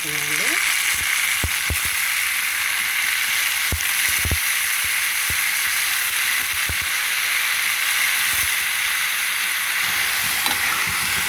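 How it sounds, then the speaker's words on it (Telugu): Onions frying in oil in a pan with mango and brinjal for a curry, a steady close sizzle and hiss throughout, broken by several sharp knocks of a utensil against the pan. "ఉల్లిపాయలు వేగుతున్నాయి కదా"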